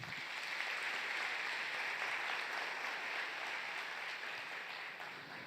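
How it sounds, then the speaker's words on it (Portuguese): A crowd at a church conference applauds the drummer with steady, dense clapping that holds evenly for several seconds, then begins to thin out. "Vamos aplaudir o nosso baterista."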